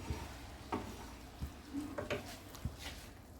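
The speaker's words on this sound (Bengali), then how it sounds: "এই মুহূর্তে বেগুনগুলো একটু ফুটতে দিতে হবে" Baby eggplants cooking in a pan of a Bengali vegetarian dish, with a faint continuous bubbling and sizzle and a few soft scattered clicks and knocks, quiet and close.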